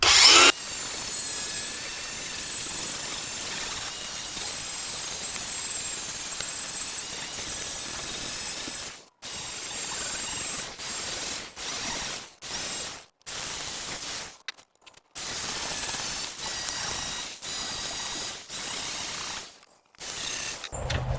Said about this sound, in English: We'll be using, let's just call it like an abrasive wheel. It kind of looks like a Brillo pad. Got it on a grinder.